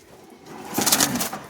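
Malbai flying pigeons in a home loft give a short, soft coo with a faint flutter, peaking briefly midway and fading out over a quiet background.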